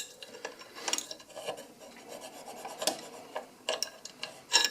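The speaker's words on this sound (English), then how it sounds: "And this is just a trigger track file." A trigger track file rasps across the steel breech face of a titanium 10mm 1911 during barrel fitting, with short, light, close strokes in an uneven rhythm at low volume.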